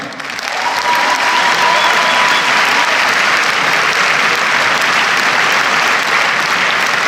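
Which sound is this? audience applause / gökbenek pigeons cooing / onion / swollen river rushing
audience applause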